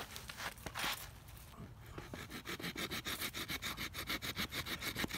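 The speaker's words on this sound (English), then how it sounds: "It's actually sawing better than I thought it would." The blade of a 25-in-1 axe multi-tool saws through a tree limb in rapid, regular back-and-forth strokes. The rasping is close and rhythmic, irregular at first, then settling into a steady, quick cadence.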